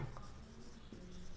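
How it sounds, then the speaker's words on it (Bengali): Faint, soft scratching strokes of writing on a classroom board during a secondary-school chemistry lesson, brief and quiet with no voices. "আমি লিখে দিচ্ছি"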